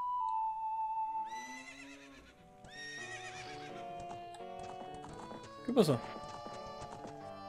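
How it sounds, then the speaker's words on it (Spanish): In the video game The Legend of Zelda: Ocarina of Time, a horse neighs in long whinnies and clip-clops along, with a burst of hoofbeats and a rising game tone behind. A person talks briefly over it. "¡El caballo viene"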